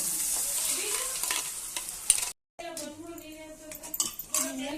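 A spoon stirs and scrapes as chutney goes into a sizzling pan, with frying crackle throughout and a brief cut to silence midway.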